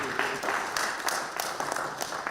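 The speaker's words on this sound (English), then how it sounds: "So why not clap for yourself," An audience at a human rights day celebration claps together, a dense, continuous patter of hands that holds steady and fairly loud for a couple of seconds.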